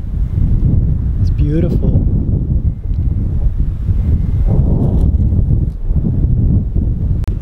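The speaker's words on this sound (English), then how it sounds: "A little windy." Steady wind rushing across the microphone at a gorge overlook near Lava Cast Forest as rain begins, a loud continuous low roar with gusts, under a man's brief speech.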